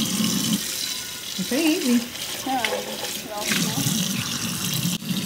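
A GraniteRock non-stick pan being rinsed under a running kitchen tap, with a steady stream of water splashing continuously while people talk over it.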